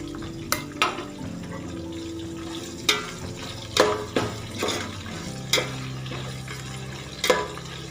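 Onions frying in a pan for rice upma, a low steady sizzle broken by repeated sharp knocks and scrapes of a spoon stirring against the pan, close up and with no talking.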